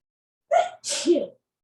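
A single sudden sneeze during a yoga class, a quick inhaled burst followed by a sharp explosive release, close and clear in a quiet room.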